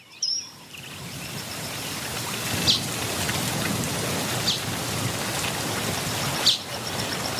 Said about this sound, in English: Said young Springbok as the rain began to fall.